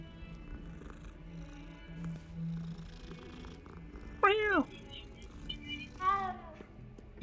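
A cat in a wizard video game gives two clear meows, the first longer and louder, the second shorter a couple of seconds later, over a quiet low background hum.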